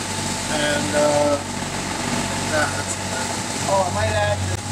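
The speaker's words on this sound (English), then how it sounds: "So we're motoring, and we have rain," A sailboat's engine motors steadily through a small storm with rain on the open ocean, a constant drone under intermittent talk.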